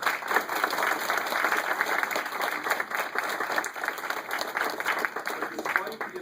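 An audience at the College of Staten Island applauds a guest speaker: a dense, steady wash of clapping that fills the whole stretch, loud and close, with no break.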